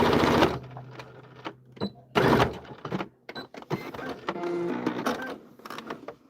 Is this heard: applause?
no